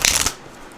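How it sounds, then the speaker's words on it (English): A quick riffle of tarot cards being shuffled close by, a short papery burst that fades out after a moment. "shuffle these cards here"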